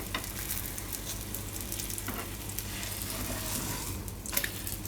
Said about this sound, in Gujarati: તો બે બાજુ એને શેકી લે હું મીડિયમ ગેસ રાખીને, બહુ ફૂલ ગેસ નહીં રાખવાનો